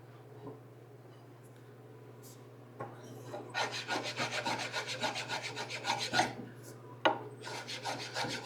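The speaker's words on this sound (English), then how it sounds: "We'll do some filing." Rasping file strokes on wood while building a DIY liquor cabinet, a steady run of quick, even scraping strokes at moderate level after a quieter start, with a low constant hum underneath.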